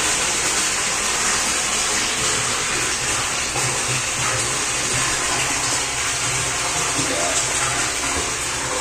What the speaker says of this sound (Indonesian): Bisa dilihat ya, airnya langsung ngalir.